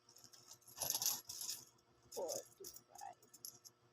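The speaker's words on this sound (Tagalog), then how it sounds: "Guys, magbibilang naman tayo ng ating mga barya." Coins are counted and dropped in small handfuls, giving bursts of bright metallic clinks and jangling rattles that come close and fairly quiet, separated by short pauses.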